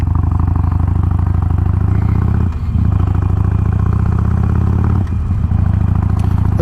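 A motorcycle fitted with Cobra exhaust and a power port joining the pipes before the mufflers idles steadily with a deep, even rumble, dipping briefly twice.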